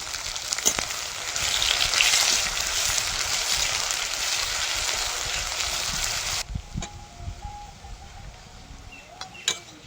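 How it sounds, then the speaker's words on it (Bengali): Chopped onions hitting hot oil with bay leaf and five-spice, a loud dense sizzle for the first six seconds that then drops to a quieter crackle with a few scattered pops. "তেলের মধ্যে তেজপাতা আর পাঁচফোড়ন, পেঁয়াজের কুচি"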